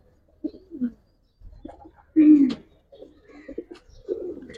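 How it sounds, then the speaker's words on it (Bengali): Military pigeons coo in short, low throaty bursts, with one louder rolling coo in the middle and softer murmurs and rustles around it, close to the microphone. "এক পেয়ার মিলিটারি কবুতর"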